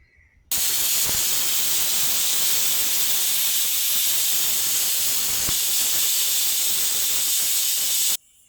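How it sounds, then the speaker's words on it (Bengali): A pressure cooker of vegetables on the stove lets out a loud, continuous steam hiss that starts abruptly, holds strong for several seconds close by, then cuts off sharply; no talking. "আমার 2টা শীষ হয়ে গেছে সবজির"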